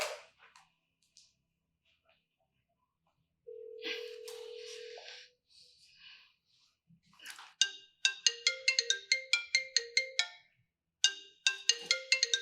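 A telephone ringtone sounds in quick repeated chirping bursts, loud and close, after quieter scattered household noises and a short tone.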